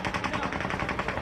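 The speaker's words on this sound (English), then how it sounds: "The sound of automatic gunfire and screams of terror after a gunman opened fire at a crowded country music festival on the Las Vegas Strip" Rapid automatic gunfire at a crowded outdoor country music festival on the Las Vegas Strip. About a dozen evenly spaced loud reports come in one fast continuous burst.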